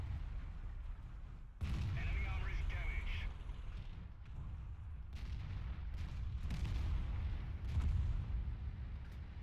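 Artillery battery fire in a tank video game, deep booms and rumbling blasts in a noisy battle soundscape, with players talking over the action.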